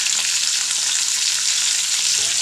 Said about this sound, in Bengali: এবার একটুখানি ভালো করে ভেজে নিই